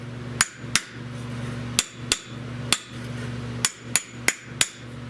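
Sharp metallic hammer taps on a metal panel backed by a dolly, struck in irregular clusters of one to three quick blows with short pauses, close and loud over a low steady hum, during repair of a rear defroster on a 1970 Buick Wildcat convertible.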